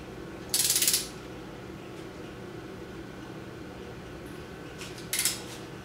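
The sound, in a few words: torque wrench ratcheting while torquing oil pump bolts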